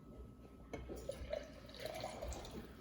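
Liquid being poured into a Victorian eggnog mixture makes a short, quiet trickle and splash, with faint dripping in a calm kitchen.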